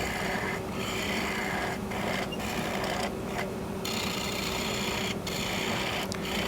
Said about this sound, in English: My favorite bowl gouge is going to make short work of this.